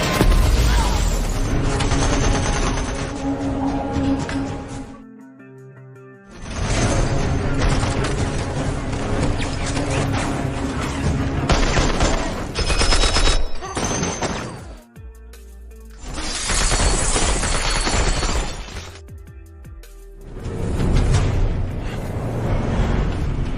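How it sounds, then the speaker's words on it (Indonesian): A gunfight in the film 355, with dense bursts of gunfire, booms and crashes layered over a loud, driving film soundtrack. Brief quieter gaps break up the dense action. "Akhirnya mereka terlibat dalam baku tembak melawan anak buah Nick"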